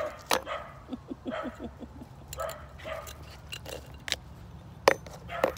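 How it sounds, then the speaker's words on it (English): A dog gives a few short, sharp barks and yips at irregular intervals, mixed with scattered thumps and small handling noises nearby. "Good dog."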